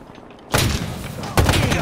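Two loud, sharp sniper rifle shots in the video game Halo Infinite ring out about a second apart after a quiet stretch, each with a brief booming tail.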